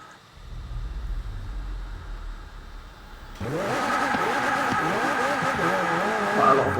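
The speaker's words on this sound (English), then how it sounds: "Quite a lot of wheel spin." McLaren Speedtail in Forza Horizon 4 spinning its wheels, a loud rising engine whine with harmonic sweeps and tyre scrabble building after a quieter start, continuous and close.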